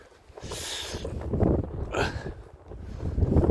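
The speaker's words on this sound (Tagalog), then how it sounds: "Ang lakas pa ng hangin" Strong, cold gusts on Mt. Songnisan buffet the microphone in rumbling waves, rising and falling with a couple of breathy bursts; no speech.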